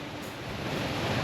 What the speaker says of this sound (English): We found another waterfall.